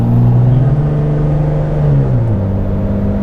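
A 5.9 Cummins diesel truck with a built transmission pulls away under acceleration, its engine droning low and loud, the pitch climbing and then shifting as the gear changes, close up and with no talking.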